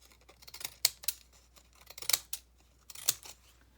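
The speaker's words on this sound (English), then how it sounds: "if I just kind of decal it a little bit with my scissors" Scissors snip along the straight edges of handmade journaling cards for a bird journal, four or five quiet, crisp cuts spaced across a few seconds with soft paper rustling between them.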